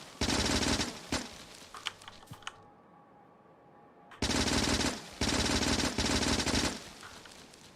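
Bursts of automatic gunfire from Factorio shooting trees, loud, rapid and close, in several long volleys separated by a quieter pause with faint background hum.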